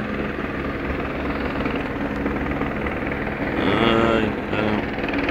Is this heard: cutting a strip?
no